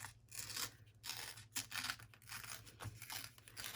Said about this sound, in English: I'm just going to rip it so it has a rough edge